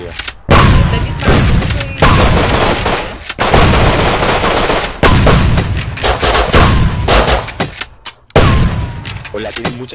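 Dense, loud automatic gunfire and shotgun blasts in the survival video game Rust during a base raid, rapid bursts with brief gaps, while players talk excitedly over it.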